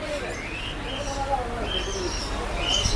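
Birds chirp and coo softly in a busy Mumbai pet market, their calls scattered over a steady background murmur.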